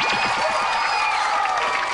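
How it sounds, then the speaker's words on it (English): A crowd at a 1995 gathering breaks into steady applause mixed with cheers and whoops, loud and continuous throughout. "Big round of applause, guys"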